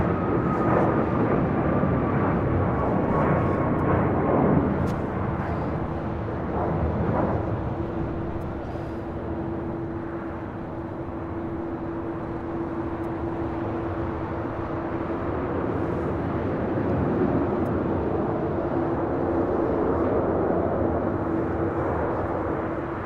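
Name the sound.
United Airlines 787-9 Dreamliner jet departing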